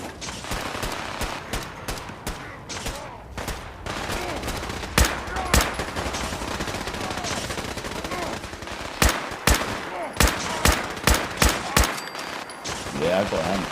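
Gunfire in Fallout 4 cracks out in rapid bursts and single sharp shots across the whole stretch, loud and close, with players' voices talking over the shooting.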